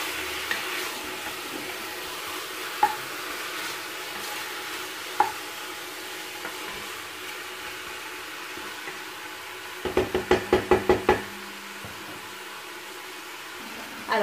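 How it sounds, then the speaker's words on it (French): Chicken pieces brown with onion in butter in a pan, a steady soft sizzle running throughout, with occasional utensil clinks and a quick burst of rapid tapping or scraping near the end. "Je les fais un petit peu revenir avec l'oignon dans le beurre."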